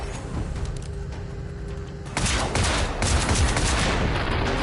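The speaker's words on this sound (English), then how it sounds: "I don't like these dudes of how careless they are firing their rounds up close" Bursts of enemy gunfire in the video game Generation Zero, loud rapid rounds fired up close, a sustained volley swelling in the second half with heavy booming shots.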